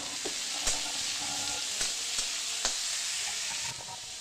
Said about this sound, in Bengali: এবার সবজিগুলো দিয়ে একটু ভাজা করে নেব সবজিগুলো